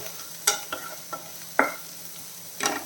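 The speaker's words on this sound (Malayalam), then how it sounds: "ഒന്ന് വഴണ്ടിട്ടേട്ടെ അപ്പം നമ്മുടെ സവാള നല്ല രീതിയിൽ വഴണ്ടിട്ടുണ്ട്" Onion and green chili sauté in a pan, with a soft continuous sizzle broken by about five distinct scraping stir strokes from a spoon against the pan, close and alone.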